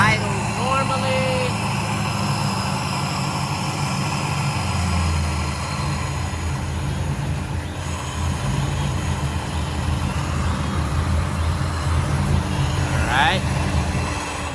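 A steady, loud idle from an LS-swapped Nissan 350z strapped to a dyno, with a continuous low rumble that dips slightly as the throttle is eased closed, under a voice speaking.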